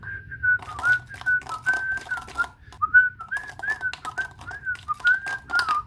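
A person whistles a pop song, a clear melodic line of sliding, wavering notes in short phrases. It is close and alone over a faint low background hum.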